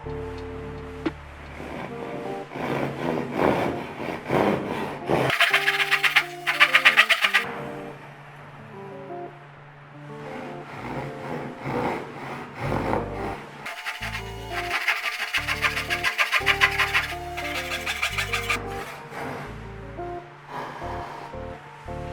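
A hand saw rasps through wood in two bursts of quick back-and-forth strokes, with quieter handling sounds in between.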